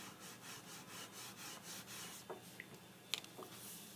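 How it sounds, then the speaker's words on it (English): A scraper blade levels a hardened fill stick repair on a wood surface, giving a steady, soft rasping scrape with a few sharper clicks near the end, fairly quiet and with no talking. "I'm going to take that scraper blade and we're going to level it."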